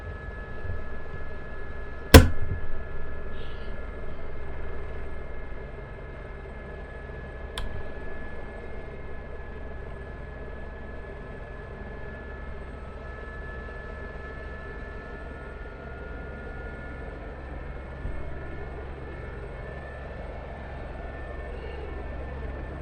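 An aircraft takes off in the DCS flight simulator game: a steady, droning engine roar holds for the whole stretch, with a sharp click near the start and a faint rising whine later.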